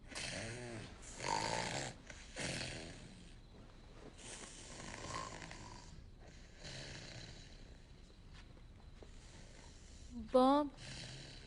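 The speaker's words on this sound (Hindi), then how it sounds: "क्या ये हमेशा ऐसे ही खर्राटे मारता है?" A man snores deeply while asleep, with loud rasping snores at regular intervals and quieter breaths between them. A short high squeal sounds near the end.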